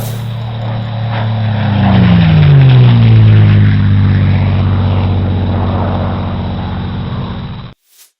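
A propeller aircraft flies past at the Duxford Battle of Britain airshow in 2019, its droning engine swelling to a loud peak with a falling pitch sweep as it passes, then holding a steady roar before cutting off abruptly.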